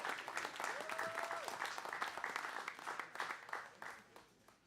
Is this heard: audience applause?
yes